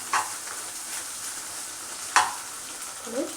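Spice powders being stirred into fried eggs and broad beans (chikkudu) in a pan, a low steady sizzle with a couple of sharp utensil scrapes and taps standing out, close and with no talking.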